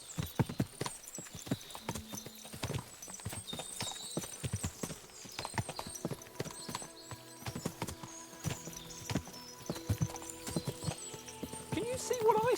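Horses' hooves clip-clop on the ground in the medieval game Kingdom Come: Deliverance, many irregular close strikes from several animals, with a brief whinny and soft background chatter.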